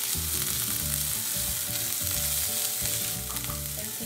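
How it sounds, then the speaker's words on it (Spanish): Chopped onion frying in a pan for a pineapple chicken dish makes a continuous loud sizzle, with a low tonal hum running steadily underneath and no one talking. "a cocinar la cebolla. La cebolla para sofreír los vegetales."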